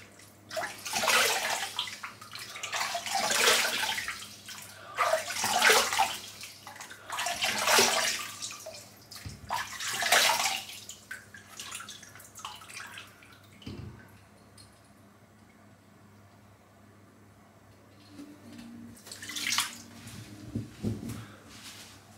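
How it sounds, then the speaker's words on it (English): Water runs and splashes in bursts as a Gillette Labs exfoliating bar razor is rinsed under a tap after a face shave, several separate surges of flow and then a quieter pause before one last splash, close by. "Quick rinse."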